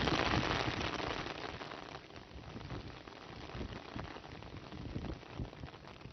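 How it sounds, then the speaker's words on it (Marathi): Unseasonal evening rain falling in Parner taluka, Maharashtra, a dense steady patter of drops on surfaces, loudest at the start and easing slightly, with no voices. "पारनेर तालुक्यात सायंकाळी 5 वाजण्याच्या सुमारास अवकाळी पावसाने हजेरी लावली।"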